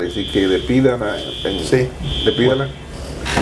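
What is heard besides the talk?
building fire alarm sounding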